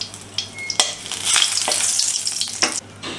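Two dried chillies and two bay leaves drop into a little hot mustard oil in a kadai, bursting into sharp crackling sizzles that swell and fade in quick bursts over a faint background hum.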